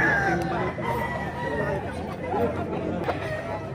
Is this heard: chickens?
yes